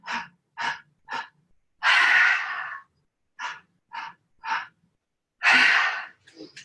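Slow, deep breaths during a yoga forward fold: several short, sharp inhales alternate with two long, heavy exhales, close and clear, with silence between them and no talk.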